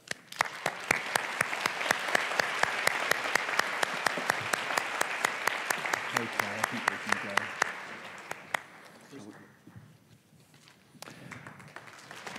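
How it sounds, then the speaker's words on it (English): An audience at the Nobel Prize Dialogue Tokyo 2019 gives steady, dense applause as laureates walk on stage, with sharp claps standing out. The applause fades after about eight seconds, leaving quieter room sound and a voice speaking. "Please give them a round of applause."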